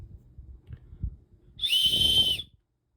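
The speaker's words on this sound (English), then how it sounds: "That was me calling for help with my whistle." A tiny whistle gives one shrill, steady high blast of under a second, coming after a few soft handling bumps and then stopping abruptly into silence.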